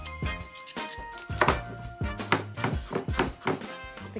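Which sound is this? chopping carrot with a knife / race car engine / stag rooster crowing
chopping carrot with a knife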